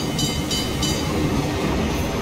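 A train rolls along the tracks in PUBG, a steady loud rumble with a few faint rhythmic clicks near the start and no voices.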